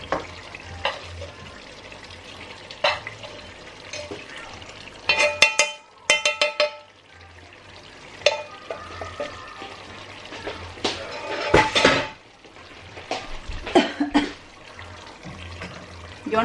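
Bengali fish curry fries in oil left over from frying the fish while being stirred in the pan, a soft sizzle broken by clattering spoon scrapes and bursts of stirring noise.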